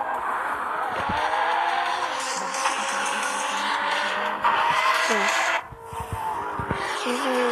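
Racing car in the GT Racing video game, a steady engine drone with bursts of tire squeal and skidding, loud and continuous with a brief dip near the end.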